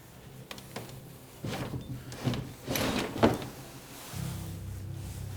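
An old carved wooden drawer in an abandoned snowy house in New York is worked open and shut, giving a few close scraping and knocking sounds over a quiet room hum.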